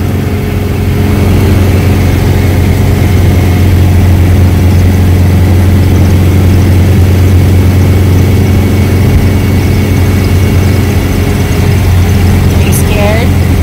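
A small old car's engine idles with a loud, steady low rumble that holds unchanged throughout, with a brief faint chirp near the end.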